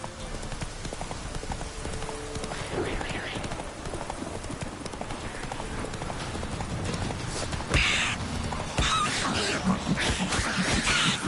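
Hooves of the horse Roach clip-clop steadily in The Witcher 3, a continuous rhythmic trot under game music and ambience, with a voice speaking briefly and a louder burst of activity late on.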